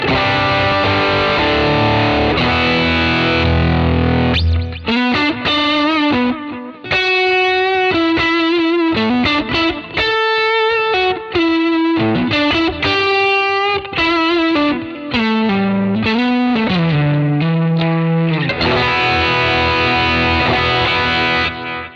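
Electric guitar through an overdrive pedal with a fuller, full-spectrum tube screamer-like EQ plays chords and single-note lines, warm and saturated, loud and alone.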